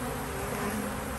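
Honey bees swarm an open feeding station offering thick sugar syrup and pollen substitute, making a dense, steady, continuous buzz close by with no pauses.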